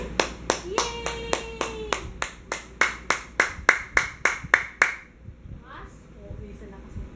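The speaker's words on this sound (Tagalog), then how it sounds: "Clap your hands! Clap your hands!" Sharp hand claps ring out in a steady rhythm, about fifteen in a row, close and loud, with a sung voice underneath at first, then fading to background noise.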